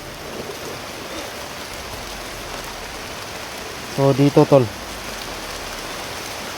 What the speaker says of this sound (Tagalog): Yan, lakas na naman yung ulan.